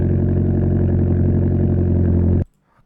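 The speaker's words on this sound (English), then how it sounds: "go back to the engine interior sound. That's the idle sound." Steady, loud engine idle heard from inside a car in Assetto Corsa, a low rumbling drone with even pulsing that cuts off abruptly near the end.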